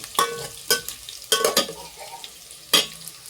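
Onion frying in a pan, a soft sizzle broken by several sharp clanks and scrapes of a utensil against the pan, close and intermittent with no talk.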